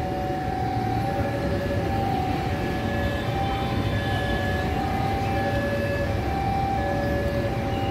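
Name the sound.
train passing through station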